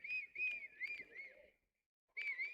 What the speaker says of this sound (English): Someone's got a great whistle.